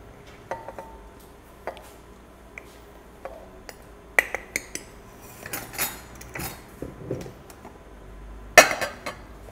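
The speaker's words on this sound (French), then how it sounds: "Eugénie va commencer par peser la farine, donc nos 250 grammes." Flour being weighed out in a kitchen, heard as scattered light clinks and taps of utensils and bowls on a scale, with quieter rustling between, close and sparse.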